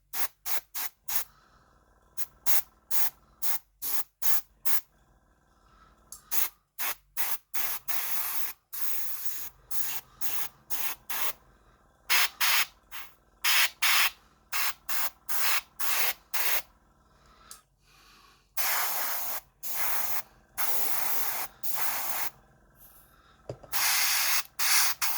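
Desert-coloured spray paint dusts a small model armored truck built for the Gaslands tabletop game. Many short, sharp hissing bursts from the aerosol can come close up, with brief pauses between them and a few longer sprays.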